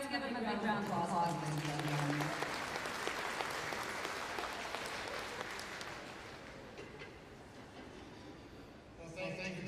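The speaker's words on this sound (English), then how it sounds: "Let's give him a big round of applause." An audience at a Treaty 2 Territory gathering of the Anishinaabe Nation applauds the mayor, a broad sustained clapping that swells early, follows a brief voice at the start, and slowly fades over about ten seconds.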